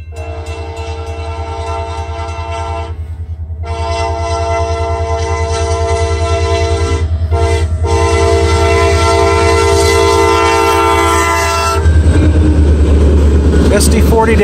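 An eastbound freight train led by SD40-2 and SD40-3 locomotives rumbles past close by with a loud, sustained horn blast over the engine drone and wheel noise, growing louder toward the end.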